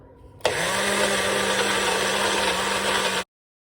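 A food processor whirs loudly through basil pesto in one continuous burst of about three seconds, starting abruptly and cutting off cleanly.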